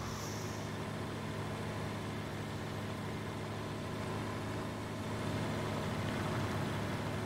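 A farm vehicle engine runs steadily at idle in the video game Landwirtschafts-Simulator 19 on the Erlengrad map, a low, even rumble with no voices over it.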